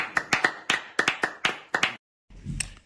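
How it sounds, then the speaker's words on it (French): A church congregation claps in a quick irregular run of about nine sharp hand claps over two seconds, followed by a short pause and then a softer, muffled burst of clapping and rustle. "applaudissez le Seigneur"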